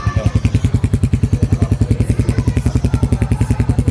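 A Royal Enfield Hunter 350 single-cylinder motorcycle engine idles with a steady, rapid thumping pulse, close and loud, with no voices.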